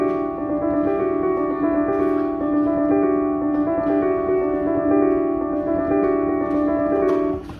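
A Nord keyboard plays a sustained piano part at a lowered level, steady chords ringing without pause and with no voices over them.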